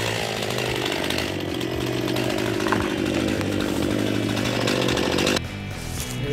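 A chainsaw roars steadily through wood at close range, loud and continuous, then the engine drops to a lower idle near the end.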